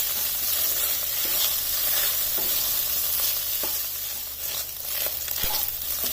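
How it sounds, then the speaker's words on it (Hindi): Garlic ginger paste frying with mutton keema in hot oil, giving a steady close sizzle with occasional stirring scrapes throughout and no talking. "अब इस लहसुन को भी इसमें 2 मिनट तक पकने देना है।"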